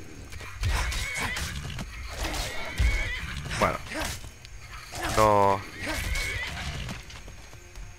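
Horse in a video game whinnies once in a loud descending neigh near the middle, amid hoof clops and game effects, with someone talking over parts of it.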